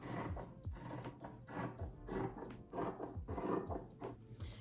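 Scissors cut excess fabric off the edges of thrifted clothing: quiet, close rasping snips repeat in an uneven rhythm, each a short crunchy slice, with no talk.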